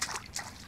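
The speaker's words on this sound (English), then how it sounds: "You just stand in the shallow water, fill the bottle, fill the bottle, fill the bottle" Dirty water is scooped into a bottle while standing in shallow water in the video game Romero's Aftermath, giving a short, soft run of bubbling, dripping sloshes.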